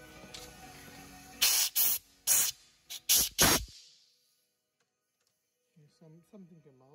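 Several sharp, loud bursts of compressed air blow out a cylinder head bolt hole on a 1.9 TDI PD engine, each a short hiss, followed by silence and then someone talking.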